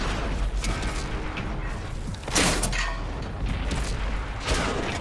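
Tank cannon shells firing and striking armor in World of Tanks, dense mechanical rumble broken by a couple of sharp crashing impacts, loud and close with no voices.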